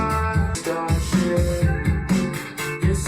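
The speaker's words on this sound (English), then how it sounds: "You can already hear the guitar elements right here." Guitar parts within a song, sitting in a dense full mix with pulsing low-end beats and layered harmonics across a short, steady stretch.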